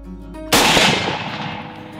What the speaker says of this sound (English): I fire a shot.